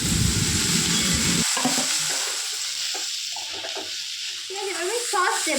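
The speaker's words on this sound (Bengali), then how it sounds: "তারপর সবজিগুলো দিয়ে সেটাও ভেজে নিচ্ছে" Egg scrambled into crumbles and vegetables frying in a pan for home-made chowmein, a steady loud sizzle with stirring scrapes and clinks of a utensil, the hiss continuous throughout.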